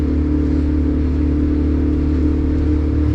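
Twin 150 outboard engines on a 26-foot Duckworth offshore boat running steadily, a loud, constant low droning hum with no break, close by.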